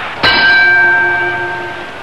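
A boxing ring bell rings once to end a round in the Schmeling versus Baer fight, a single loud, close metallic clang that rings on with a slowly fading tone.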